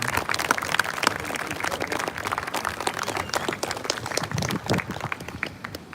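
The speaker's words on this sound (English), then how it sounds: "can we please give a big round of applause for our bagpipe player, Amazing Grace, Marsha Eli." A crowd at a candlelight vigil claps steadily and loudly for several seconds after a bagpipe performance, a dense patter of many hands with no voices.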